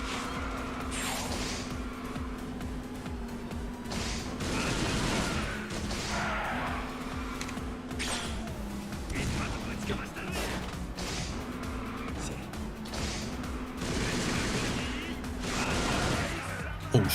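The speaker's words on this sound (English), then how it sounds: "I didn't expect us to get like an unlimited Gatling gun" Rapid automatic fire from an unlimited Gatling gun in the video game Like a Dragon 8 Gaiden, sustained bursts over busy game music and effects, fairly loud and continuous throughout.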